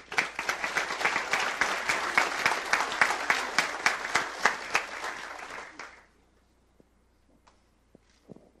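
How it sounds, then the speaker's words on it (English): Applause at a swearing-in ceremony for sheriff's deputies, a dense, steady round of clapping from a room of people that runs for about six seconds and then stops abruptly, leaving near-silence with a few faint knocks. "Give them another round of applause."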